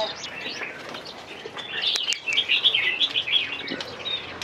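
Crested bulbul songbirds chirp and trill at an antiques-market bird stall in Van Phuc, Ha Dong, a dense overlapping chorus of high calls that swells louder through the second half, with no talking.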